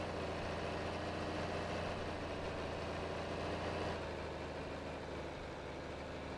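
Steady low engine drone of a John Deere 4020 tractor in Farming Simulator 22, idling and rumbling continuously at an even level while plowing a field, with no talk over it.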